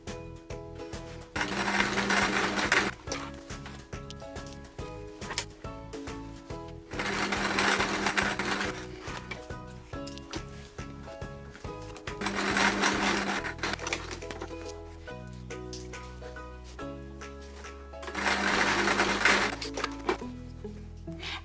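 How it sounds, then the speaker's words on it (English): A sewing machine stitching quilt patchwork strips together, rapid mechanical chattering in four bursts of a few seconds each, separated by short pauses and soft handling clicks, close and without talk. "we're going to stitch together the M and N pieces to create two"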